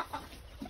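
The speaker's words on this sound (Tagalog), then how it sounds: "Ito na yung mga native natin na nahuli kagabi ko pa ito nahuli." Native chickens cluck softly a short distance away, a few brief low clucks over faint background noise.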